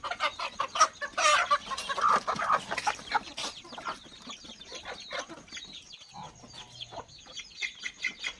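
A rooster and hens cluck steadily nearby, a busy stream of calls that is loudest in the first few seconds and then continues more softly.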